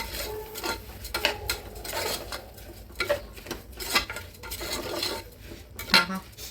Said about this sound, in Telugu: ఇప్పుడు అదంతా వేపుకునే, ఇదంతా ఒక నిమిషం పాటు వేపుకోవాలి.